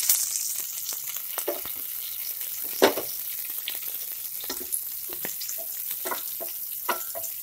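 Chopped cardamom, cashews, raisins and bay leaves frying in a pan for a raw papaya semai sweet, a soft crackling sizzle dotted with light pops and stirring taps, fairly quiet and steady without voices.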